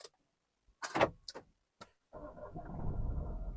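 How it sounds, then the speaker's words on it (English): A manual car's engine started by push button with the clutch pressed: a few clicks and thumps, then the engine catches and settles into a steady low idle rumble, close and alone. "we put the clutch down and we press the button to start the car"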